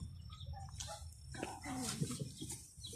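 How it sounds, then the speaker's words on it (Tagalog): A dog barks outdoors on a drizzly day in Baguio City, Philippines, a few short yaps and a whimper at moderate distance mixed with outdoor noise and faint bird sounds. "Oh, there's a dog. There are dogs there, Ru."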